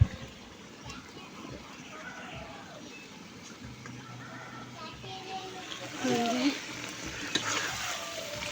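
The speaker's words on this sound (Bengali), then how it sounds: "সবজির সাথে একটু কষিয়ে নিতেছি।" Koi fish sautéed with vegetables in a pan sizzle and fry steadily while a utensil stirs, with brief bursts of louder hissing and scraping; faint children's voices and talk sit in the background.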